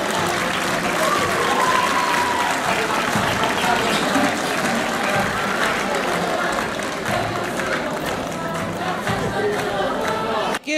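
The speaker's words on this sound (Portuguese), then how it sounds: "uma salva de palmas para eles" Sustained applause and crowd noise from spectators at the 2018 Santo António festival parade of popular marches, greeting a marching group; dense, continuous clapping mixed with cheering and murmur, steady and loud throughout.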